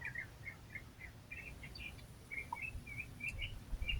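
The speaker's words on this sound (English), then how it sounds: "Hopefully, maybe you can hear the birds." Birds chirp in short repeated tweets at a moderate distance, steady through the clip over a low rumbling background.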